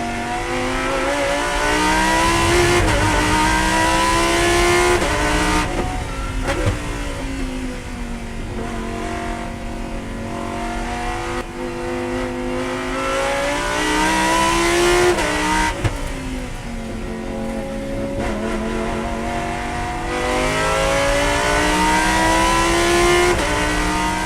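Lamborghini Huracan GT race car engine in a GT race, fighting for position on the first lap against GT3 Cup cars and an Audi. The engine howls loudly and continuously, rising and falling through gear changes, with no talk.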